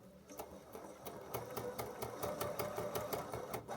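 A sewing machine stitches a quilted book sleeve in a fast, even chatter of needle strokes, quiet and close, with no voices.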